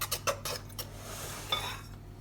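Caster sugar and sultanas mixed into a scone breadcrumb mix in a bowl, a few quick scraping clinks of a utensil against the dish followed by softer stirring, close and fairly quiet.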